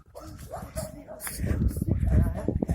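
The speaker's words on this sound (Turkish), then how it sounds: "Köpekler eşlik geliyor bana." Dogs bark and yip in short bursts amid noisy background commotion, with a voice talking nearby.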